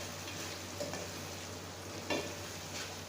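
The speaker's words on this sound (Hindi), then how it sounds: "अब हम इसको अच्छी तरीके से मसाले को भूनेंगे" Masala spices fry in a karahi pan with a constant close sizzle, broken by a few scraping strokes as they are stirred.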